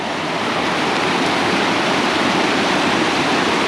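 Water rushes over a beaver dam in a loud, steady, close-up roar, a constant broadband wash with no pauses or voices.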